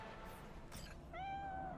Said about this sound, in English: Hey, kitty.